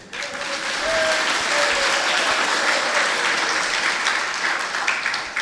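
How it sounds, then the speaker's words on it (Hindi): An audience at a Jain monk's religious sermon in Khimlasa breaks into loud, sustained applause, a dense wash of many hands clapping that holds steady for several seconds. "ताली तो आप लोगों ने बजा दी"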